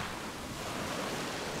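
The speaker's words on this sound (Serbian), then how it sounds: "Prvo ča čuješ je zvuk mora koji neumorno ljulja brodove i jude" Steady sea surf rolling against moored boats in a Croatian coastal setting, a continuous broadband wash of waves and wind filling the whole stretch at moderate level with no voices.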